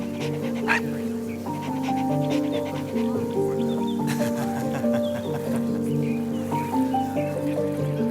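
A dog pants steadily and rapidly up close over a sustained musical backdrop.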